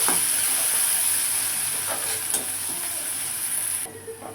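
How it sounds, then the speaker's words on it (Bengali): Garlic and onion fry in a pan with a dense, hissing sizzle, a few faint stirring knocks midway, before the sound thins out abruptly near the end, with no voices. "আর দিয়ে দিব হচ্ছে অনেকটা পেঁয়াজ। একদম হচ্ছে ব্রাউন কালার করে এটা ভেজে নিব।"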